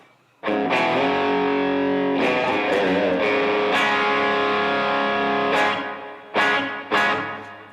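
Electric guitar through a Boss SD-1 distortion pedal, loud sustained chords with a few short gaps and restrikes near the end, no talking.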